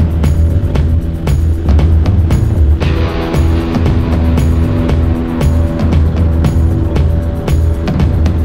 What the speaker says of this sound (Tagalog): testing naman natin ang top speed nitong ADV 150